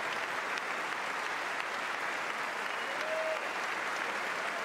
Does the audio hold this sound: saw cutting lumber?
no